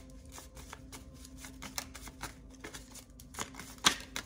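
Tarot cards being shuffled, with a run of soft riffling flutters and light slaps repeating close up over a steady low hum and ending in one sharper snap.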